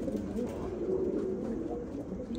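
Pigeons coo softly and steadily in a loft, their low, rolling calls overlapping into a continuous murmur that sits close by with no talk over it.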